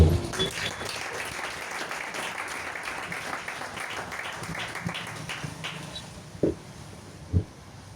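A church seminar congregation applauds and cheers, a dense, continuous wash of clapping heard at moderate distance, with a couple of sharper bursts close to the end.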